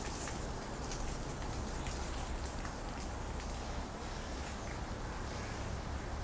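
Steady, dense rain falls in Hong Kong during Tropical Storm Mawar, a continuous hiss of drops on surfaces that holds at an even level throughout with no voices.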